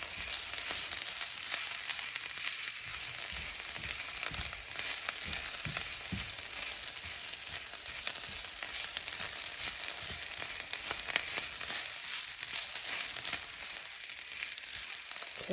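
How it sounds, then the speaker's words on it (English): Spinach and golden-brown onion fry in a pan with a steady close sizzle lasting throughout, and occasional scraping and stirring bumps come through on top. "So just keep stirring the spinach until it continues to collapse."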